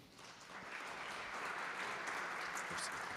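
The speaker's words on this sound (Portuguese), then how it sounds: "Uma salva de palmas." An audience at a forum on regulatory practices applauds after a list of speakers is introduced, a soft, steady crackle of many hands heard at a distance, low in level.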